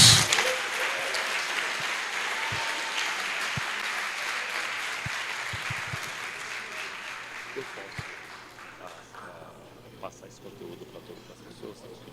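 A church congregation applauds, a dense wash of clapping that starts loud and gradually thins and fades, with voices mixed in beneath it.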